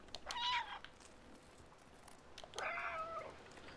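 Cat meowing in the video game Stray, two faint, short meows about two seconds apart over a quiet background.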